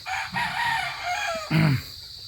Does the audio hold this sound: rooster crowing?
yes